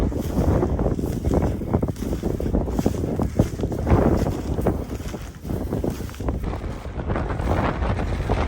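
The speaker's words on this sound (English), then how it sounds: "It's pretty windy" Strong wind buffets the microphone in a steady, loud roar with gusting surges, heard outdoors in Alaska during a brown bear hunt, with a rushing watery wash beneath it.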